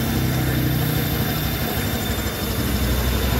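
A loud, steady Honda Vario 125 scooter engine drone runs throughout, with a constant high-pitched squealing whine riding on top of the low rumble while the engine is hot.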